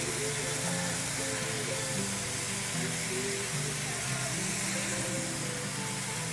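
Lean ground beef browning in a pan, a steady broadband sizzle running throughout at moderate level beneath faint background music.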